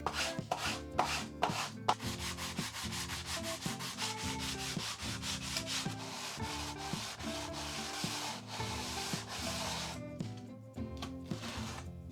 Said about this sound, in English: I sanded the entire ship smooth.